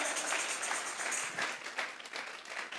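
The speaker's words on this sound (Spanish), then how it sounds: "Vamos a regalarle ofrenda de palmas al Dios de la gloria." Church congregation clapping together as an offering of praise, a steady dense patter of many hands filling the space at moderate loudness with no voices over it.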